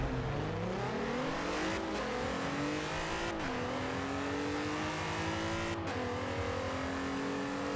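A massive truck built for drag racing in Forza Horizon 4 accelerates hard, its engine note climbing steadily through several gear changes in one loud, continuous run with no talking.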